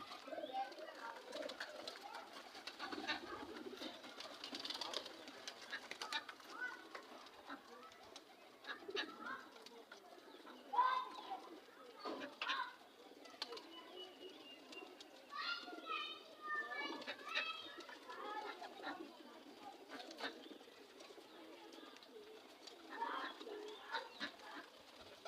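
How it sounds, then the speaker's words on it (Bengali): Kaldam pigeons coo softly in a loft, their low, repeated calls mixed with other bird sounds and children's voices in the background, all fairly quiet. "ওই কিছু কবুতর খোয়ারে ঢুকে গেছে, আর কিছু বাচ্চা এখানে আছে।"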